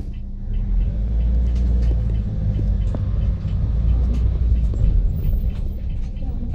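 A car driving through a favela in Brazil, heard from inside as a steady low engine and road rumble that holds for several seconds, with faint voices in the background.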